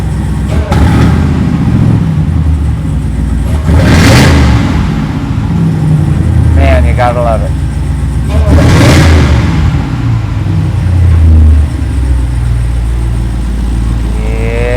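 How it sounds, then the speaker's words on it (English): A Dodge Durango Hellcat with a supercharged 6.2-liter Hemi and Flowmaster exhaust rumbles loudly up close, with two sharp revs rising and falling over the idle and someone speaking briefly between them. "I'll flip it a couple times for you guys now that the engine is warmed up a bit."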